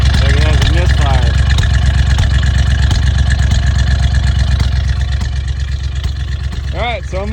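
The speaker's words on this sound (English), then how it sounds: "Not sure why it's backfiring. Maybe that's a misfire." A 1979 Dodge Ramcharger that sat for more than 15 years runs loud and close with a rough, throbbing idle, a few sharp pops scattered through, and the engine note easing slightly toward the end.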